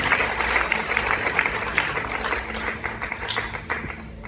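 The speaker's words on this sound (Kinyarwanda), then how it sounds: "Reka twese dukomeye Imana amashyi" A church congregation claps and applauds together, a lively, continuous patter of many hands at moderate distance, with some voices mixed in beneath the clapping.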